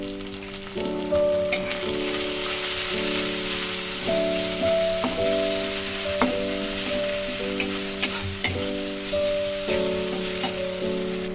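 Ginger garlic paste fries with browned onions in a kadai for kadai paneer, sizzling steadily and loudly with occasional stirring clicks, under a sustained background tone and without talk.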